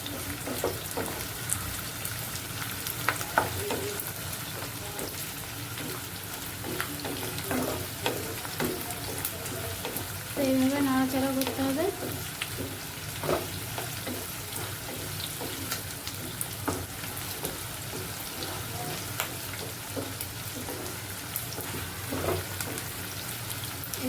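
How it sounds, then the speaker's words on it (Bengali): Onions sizzle steadily in a hot pan for fried rice and chilli chicken, a dense continuous frying hiss with occasional stirring clatters, close and fairly loud with no talking. "একটু পেঁয়াজটা ভাজা ভাজা হতে হবে"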